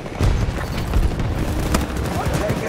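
Dense, continuous gunfire and booming blasts from a Battlefield 2042 Rush battle, with rapid overlapping shots and low thuds running throughout, loud and close, with a voice calling out over the combat.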